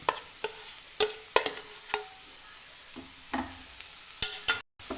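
Mashed boiled potato being stirred into masala in a pan, with sparse clicking and scraping of a spoon against the pan and a faint sizzle between strokes, no talk.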